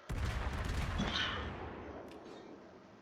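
Naval gunfire from a warship battle game near islands, one heavy boom that opens sharply and rolls away slowly into a fading rumble, loud and alone.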